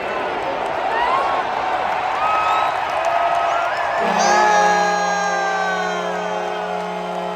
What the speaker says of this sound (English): everyone was on their feet cheering on the boys for the final 5 minutes of the game